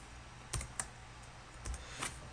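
Keys clack on a computer keyboard while code is typed, a handful of sharp separate taps at an uneven pace, close and fairly quiet with no voices.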